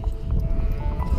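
Sheep bleat in a field full of the flock, a few short calls standing out over a dense, low rumbling background, fairly close.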